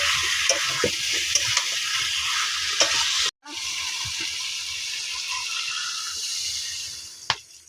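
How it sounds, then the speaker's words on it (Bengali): Meat being stir-fried dry in a pan for kosha mangsho, a steady close sizzle with scraping stirs and clinks, briefly cut off midway before the frying resumes loudly. "আমাদের মাংস প্রায় কষা হয়ে গেছে"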